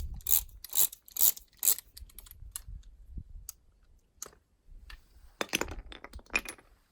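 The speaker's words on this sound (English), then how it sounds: "Don't forget to back off your torque wrench all the way." A torque wrench is backed off on a BlackHawk Titan 210 paramotor, giving bursts of sharp ratcheting clicks near the mic, then scattered fainter clicks, then another quick run of clicks.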